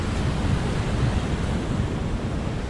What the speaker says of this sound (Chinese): 往下看，然后就在海边，有很大的浪，会有海水泼过来哦。